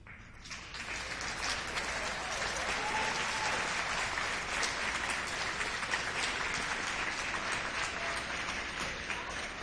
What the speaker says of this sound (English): applaud them for the support they've given you throughout the years